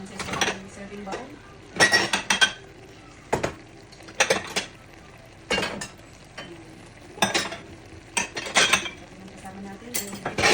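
Dishes and cutlery clink and scrape in repeated short bursts as adobo pork with egg is served into a serving bowl, close by with quiet pauses between the clatters.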